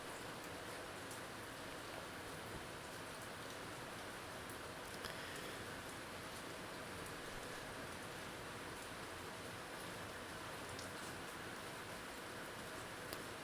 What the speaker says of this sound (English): Can you hear the rain? I can hear it right through my earplugs.